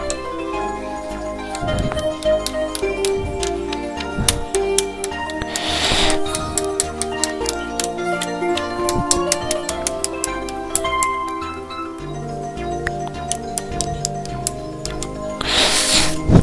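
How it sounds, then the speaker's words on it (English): A pencil ticks and scratches in a quick irregular rhythm of sharp taps and strokes, close and fairly quiet, with a couple of louder rasping swipes and no voices. "The sound was a pencil."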